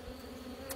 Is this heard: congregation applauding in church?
no